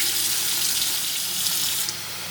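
A kitchen tap runs water into a glass or bottle, a steady hissing splash at close range for about two seconds before the flow changes pitch as it nears the end, with no talking.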